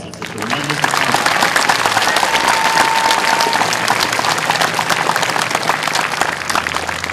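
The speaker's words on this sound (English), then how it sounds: "That deserves a tremendous round of applause." An audience at an elementary school's National Blue Ribbon celebration breaks into loud, sustained applause. The dense clapping holds steady throughout, with a brief tonal whistle-like sound partway in.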